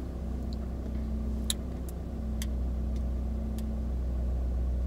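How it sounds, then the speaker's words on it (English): A car engine idles while warming up, a steady low rumble that holds evenly throughout, with a few faint clicks and ticks on top and no talking. "while I let the car warm up"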